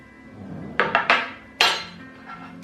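A spoon clinks against a bowl several times while scooping moringa powder into plain yogurt, a cluster of sharp taps followed by one louder knock and a faint trailing clink, heard alone and close.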